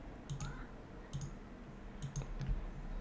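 Several sharp computer mouse clicks come in small pairs at an uneven pace while modelling a cartoon mouse head in Creo CAD software, close and fairly quiet over a low background hum.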